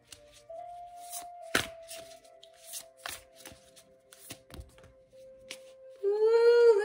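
Oracle cards from a Mystical Shaman deck riffled and shuffled by hand in a series of crisp flutters and taps, with a steady faint tone underneath and a brief louder sweep at the end.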